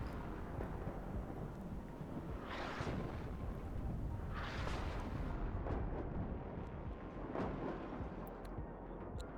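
Artillery fire in the Cold War wargame WARNO, distant low rumbling booms, two more prominent thuds among a constant dull roar of battle, heard faintly from afar.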